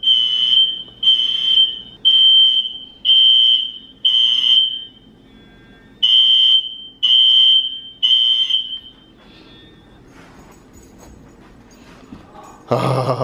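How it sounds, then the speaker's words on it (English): A shrill fire alarm beeps in repeated bursts during a test, about eight pulses, then stops, leaving a quiet room with a faint rustle at the end. "They're testing the fire alarms."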